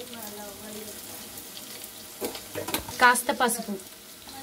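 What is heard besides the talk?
onions frying in a pan for pumpkin curry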